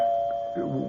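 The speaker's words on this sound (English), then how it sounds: "Wait, Emily, that's my doorbell." A doorbell rings indoors, a clear single chime tone ringing through the short moment with a soft voice or noise rising toward the end.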